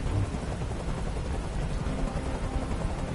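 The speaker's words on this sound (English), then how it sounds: "Tell that helicopter to get out of here." In the Detroit: Become Human video game a helicopter hovers, its rotors making a steady low throbbing drone that fills the whole stretch with no talk over it.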